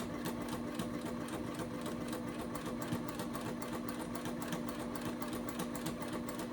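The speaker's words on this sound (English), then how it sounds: "when you're sewing vinyl, depending on the thickness of your vinyl, if your machine does it, adjust the pressure to your presser foot" A sewing machine runs continuously while stitching vinyl, a steady close mechanical hum with rapid even needle ticking throughout, no pauses and no voices.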